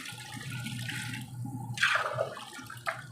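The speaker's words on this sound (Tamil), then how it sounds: "தண்ணி ஊற்றுறோம். பாருங்கள்," Water is poured into a large biryani pot holding three kilos of rice and three kilos of chicken. Low background rumble gives way to a brief splashing pour, then a short final splash, fairly faint.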